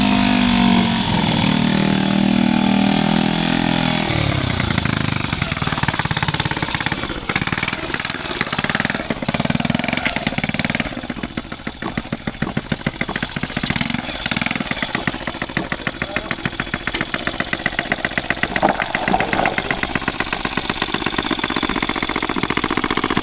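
An old Honda motorcycle engine idles steadily and close by, a continuous putter with slight fluctuations throughout and no talking.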